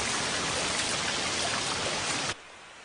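Steady, dense rain pours down as a constant close hiss of drops striking surfaces, then abruptly drops to a much quieter wash near the end.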